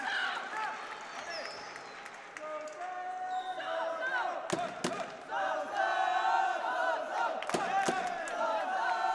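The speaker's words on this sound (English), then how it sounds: "Support you can hear is for Sofyan Umiha." Crowd at a youth world boxing championship semifinal in Yerevan shouting and cheering in support of a fighter, a steady roar with sharp bursts, under a commentator's voice.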